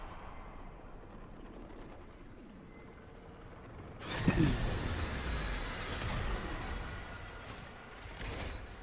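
An arriving train in the video game Warframe, heard as a loud mechanical rumble with creaks and ratcheting clanks that swell in at about four seconds and carry on to the end, following a quiet hum.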